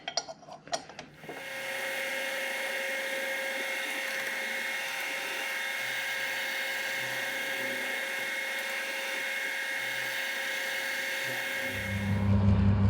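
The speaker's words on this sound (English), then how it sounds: "We'll have to call on the help of Trevor and his D-bit grinder" A D-bit grinder sharpening a 3/4 inch 4-flute cutter whines steadily at a high pitch for about ten seconds after a short clatter, then spins down at the end.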